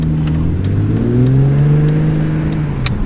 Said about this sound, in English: I'm gonna test drive it now.